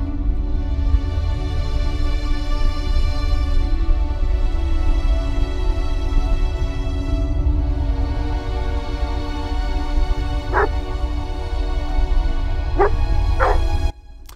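A dog in the video game The Redress of Mira, a creature with glowing torch-like eyes, yips and barks in loud repeated bursts over a steady droning background until the sound cuts off abruptly near the end.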